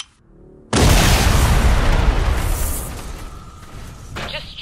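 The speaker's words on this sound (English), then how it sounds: "Explosion." A single loud explosion bursts suddenly after a quiet moment, then rolls on as a broad roaring rumble that slowly fades over several seconds.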